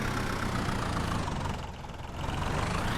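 A synthesized engine drones steadily, dips briefly in volume, then swells back louder as if revving up; no one speaks.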